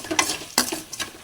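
Tempered leftover rice is stirred in a pan with a spoon, giving repeated scraping strokes and light sizzling, up close, with no talking.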